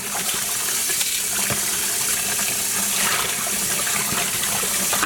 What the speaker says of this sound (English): we have now rinsed out all of that acid we've added